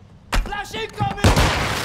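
Flashbang grenade going off in Call of Duty Modern Warfare 2, Domination match on the Breenbergh Hotel map: two sharp, loud blasts about a second apart, then a sustained hissing ring, with game voice chatter between.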